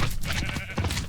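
A short, wavering video game sheep bleat, loud and close, lasting about a second.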